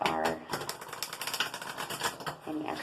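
Tarot cards are shuffled in rapid, crisp riffling bursts, a dense run of papery clicks and flutters repeating close to the mic, with no talk.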